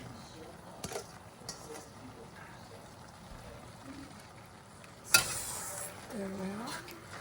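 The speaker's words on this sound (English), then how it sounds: "Now it's time to put the noodle in." Rice vermicelli noodles and shrimp stir-fry in a wok, with steady sizzling and scraping stir strokes throughout, a sharp clatter near the end, then louder tossing as the noodles go in.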